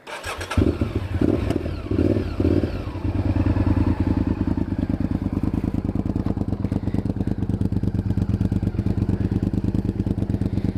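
A motorcycle engine cranks a few times, catches, and settles into a loud, steady, rapid idle thrum close by.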